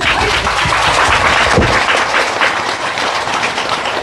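Sustained applause from a big crowd at a religious service, loud and dense, a continuous roar of clapping hands with no talking over it.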